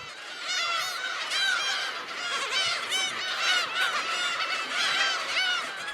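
A dense colony of black-tailed gulls on an uninhabited island calling over one another, harsh cat-like mewing and honking cries repeating constantly at close range, with no voices.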